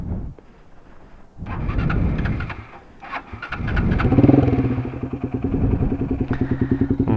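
A Minerva 150 VX motorcycle engine cranks, sputters and catches, then settles into a steady, loud idle with a throbbing pulse close by.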